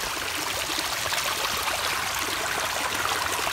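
A mountain stream on the Appalachian Trail flows steadily nearby, a continuous bright rush and trickle of water with no voices.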